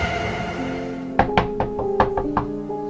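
Sharp knocks on a door in a horror video game, about eight raps in an irregular cluster over a low droning background.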